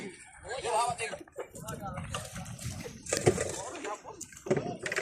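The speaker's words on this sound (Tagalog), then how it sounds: "Buhusan nyo ng tubig kay matigas." Water splashes as it is poured over something hard on a fishing boat with a big catch, irregular gushes and splatters close by, mixed with steady talking throughout.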